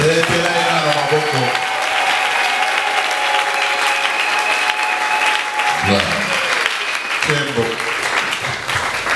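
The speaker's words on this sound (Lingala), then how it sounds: "Acclamez-le d'abord." A church congregation in the DRC applauds loudly and continuously, with voices shouting and calling out over the dense clapping.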